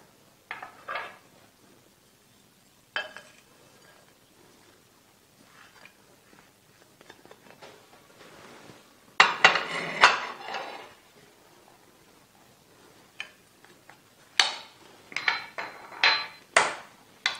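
A spoon mixes and mashes samosa stuffing in a bowl, making intermittent scraping clatters and knocks with quiet gaps between bursts, close up and with no talking.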